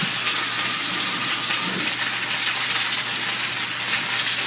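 Kitchen tap running steadily for hand washing, a close continuous gushing hiss of water with faint background sizzle and no speech.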